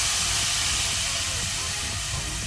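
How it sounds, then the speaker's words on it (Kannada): Freshly ground green masala paste dropped into hot oil for prawn masala on a low flame, a loud steady hissing sizzle like rushing steam, close and unbroken for a couple of seconds. "ಈಗ ನಾವು ಡೈರೆಕ್ಟ್ ರುಬ್ಬಿದ ಗ್ರೀನ್ ಮಸಾಲ ಪೇಸ್ಟ್ ಹಾಕೋಣ."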